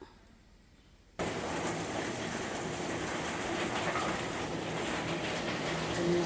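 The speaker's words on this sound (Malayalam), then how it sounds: "നമ്മൾ ടാങ്ക് നിറഞ്ഞ് മറിയുന്നതാണ് അതിൻ്റെ ഒച്ച വന്നത്" A household water tank fills and overflows: after a second of quieter background, a loud steady rush of pouring water starts suddenly and carries on evenly.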